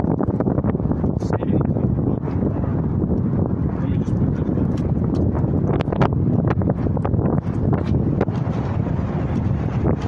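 Strong wind at a camp during a California fire, a loud, continuous roar buffeting the microphone for the whole stretch, with no talk.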